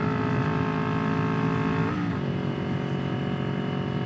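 A 2021 Kawasaki Ninja 400 motorcycle engine drones steadily at high revs accelerating in first gear, then its pitch drops briefly as if shifting, with no voices over it.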